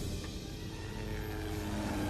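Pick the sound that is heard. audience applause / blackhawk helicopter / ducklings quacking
blackhawk helicopter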